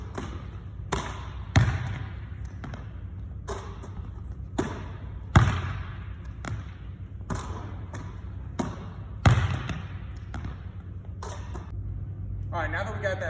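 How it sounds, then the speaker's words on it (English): A basketball is dribbled repeatedly into shots during a workout drill in a gym, giving steady close thumps in a loose rhythm with heavier bounces every few seconds. "this explosion step is just going to be a dribble, 1, 2 into our shot"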